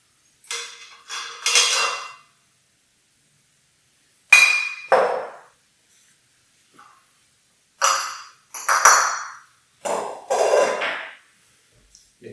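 Clinks of glass against glass as London Dry Gin with gold leaf flakes is bottled in a glass bottle: several short, bright bursts spaced by quiet gaps, close and clear with no talk.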